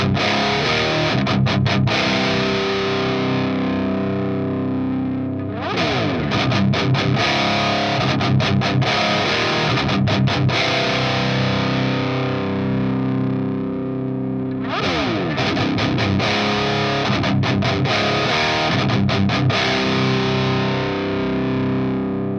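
Distorted electric guitar through a Crab BE tube amp, chords ringing and sustaining in repeated phrases as the negative feedback control is swept, the tone shifting from dry to thick, loud and continuous without speech.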